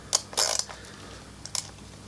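A small ratchet turned in short bursts on a BMW R1200 GS titanium exhaust baffle, giving a few close, quick clicking runs separated by pauses, with no speech.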